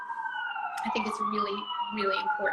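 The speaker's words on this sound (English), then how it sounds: "Sorry for the sirens." A siren on a New York street wails steadily in the background, rising and falling, while a person speaks over it.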